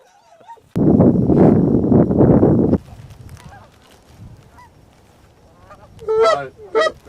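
Geese honking during a goose hunt on the Platte River: a dense, loud burst of overlapping honks from a flock for a couple of seconds, then fainter scattered calls and a closer cluster of honks near the end.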